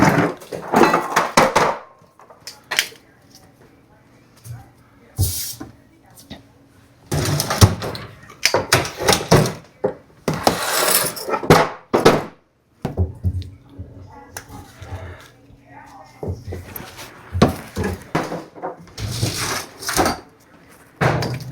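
Drawers are pulled out of wooden cabinets during roach treatment, giving repeated sharp sliding knocks and scrapes in clusters. Quieter stretches fall between them and a person talks now and then.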